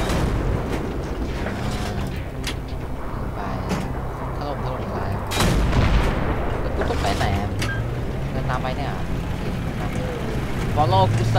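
Battlefield 3 combat rumbles with repeated gunfire and booming explosions over a constant vehicle engine drone, dense and loud throughout, with occasional voice chatter mixed in.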